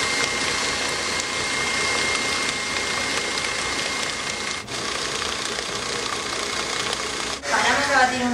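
An electric mixer beats pumpkin cake batter with a steady, loud mechanical whir that runs unbroken, with a brief dip near the end.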